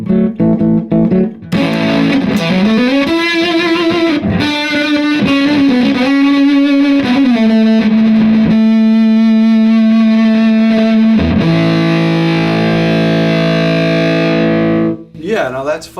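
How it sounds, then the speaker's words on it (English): Electric guitar driven through a Fuzzola fuzz pedal cranked to high gain, loud and saturated with thick buzzing sustain, sliding notes and long held chords ringing continuously before a short cutoff. "now that's fuzz. It's a kind of a fuzzy tone."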